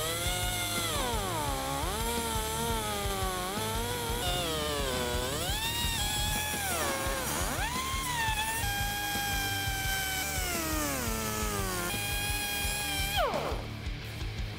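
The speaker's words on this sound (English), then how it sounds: "I'm gonna take a cutoff wheel and cut our U-bracket." Cutoff wheel slicing through a U-bracket on a 1997-2006 Jeep Wrangler TJ, a loud, close whine that rises and falls in pitch as the load changes, running continuously for about fourteen seconds.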